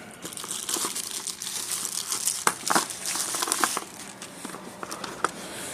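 Plastic packaging around a Suprent Black Scorpion hair clipper crinkles and crackles close up, in continuous irregular rustles with a few sharper crunches.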